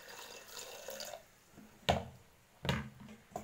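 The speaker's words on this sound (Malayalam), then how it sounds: "വെള്ളം പോരാ, കുറച്ചും കൂടി വെള്ളം ഒഴിക്കുന്നുണ്ട്." Water splashes into a pot of chickpea curry without coconut, with a soft trickle followed by a few sharp pouring gushes and sloshes, close and moderately loud.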